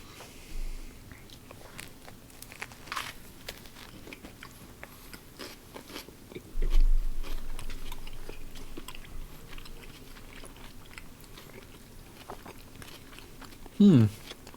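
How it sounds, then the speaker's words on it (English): Someone takes bites of a cheese and onion sandwich, with quiet crunching and chewing spread through a mostly soft stretch, a louder bite partway through and a sharp sound near the end. "It's like ASMR with your chewing."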